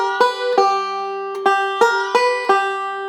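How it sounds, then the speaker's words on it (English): Banjo forward roll with the second string choked: a loud, close series of bright plucked notes in a steady picking rhythm, the choked note bending slightly, with no talking. "I'm going to choke it whenever I play that 2nd string"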